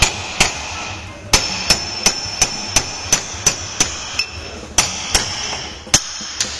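Steel driver struck repeatedly with a hammer to knock a wheel bearing out of a 1991 Geo Metro: about twelve sharp, ringing metallic blows at a steady, roughly half-second rhythm, close and loud with no talking.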